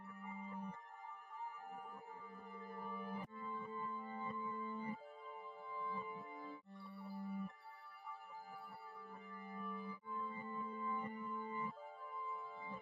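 A piano-type sample, reversed and pitched up an octave and chopped at every bar, plays as swelling, sustained tonal chords that build and cut off abruptly in repeating sections, with no talking.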